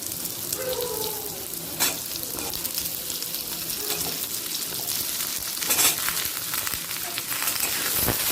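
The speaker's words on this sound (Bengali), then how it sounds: "প্রথমে আলুটাকে আমি ভেজে নেব এইভাবে ভাজতে ভাজতে এক এক করে সব কটা সবজি ভেজে নেব" Potatoes and mixed vegetables sizzle steadily in hot oil in a pan, a close, continuous frying hiss with occasional stirring scrapes.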